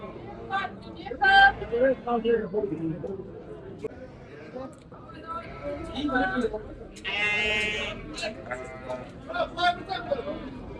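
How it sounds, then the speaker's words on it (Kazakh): Sheep and lambs bleat a few times among people talking nearby at a livestock market, with one longer, louder bleat standing out in the middle. "Қозылы қойлар ма бұлар?"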